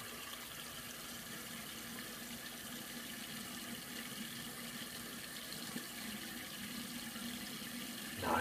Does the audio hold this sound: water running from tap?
yes